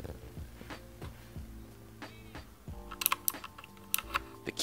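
Typing on a Motospeed CK61 mechanical keyboard with clicky Kailh white switches: a run of close, distinct key clicks, sparse at first and then faster, with a few sharper bright clacks near the end.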